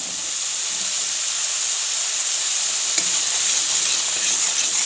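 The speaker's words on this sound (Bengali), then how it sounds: "দেখুন মশলাটি নেড়ে চেড়ে কষিয়ে নিচ্ছি" Spice paste with grated coconut for prawn malai curry sizzles steadily in a pan while being stirred, a continuous bright frying hiss with faint scrapes of the spoon and no talk.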